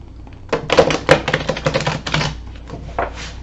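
Close-up rapid riffling and snapping of playing cards, a burst of quick crisp clicks lasting a couple of seconds, then a few softer taps.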